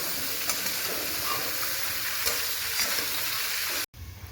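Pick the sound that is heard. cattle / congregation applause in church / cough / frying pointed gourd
frying pointed gourd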